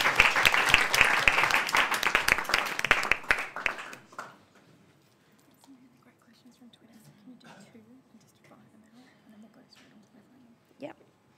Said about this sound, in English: So if you just want to give your 3 restanders a round of applause